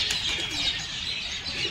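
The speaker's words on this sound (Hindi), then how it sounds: "तो दोस्तों बाकी कबूतर उतारते हैं" Pigeons settling down after a long flight over a home loft, with soft cooing and chirps and a steady, close flutter of wings throughout, no one speaking.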